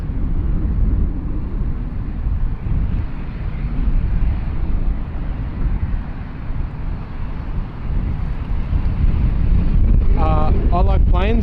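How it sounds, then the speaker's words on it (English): A small Dash 8 300 series turboprop taxis at Sydney Airport toward runway 34 left, heard as a steady distant engine drone mixed with wind noise, and a voice joins near the end. "we've got the little Dash 8 300 series taxiing out here onto 34 left"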